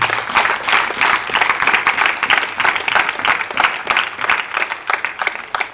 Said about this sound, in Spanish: Véndele un fuerte aplauso al Señor.